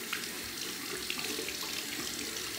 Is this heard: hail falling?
no